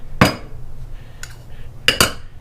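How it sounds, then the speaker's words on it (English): A utensil clinks against a bowl while dry spices, pepper, salt and cayenne, are stirred into powdered milk, giving a few sharp, close taps, one early and a quick pair near the end. "So I'll go ahead and mix most of these dry ingredients in with the powdered milk."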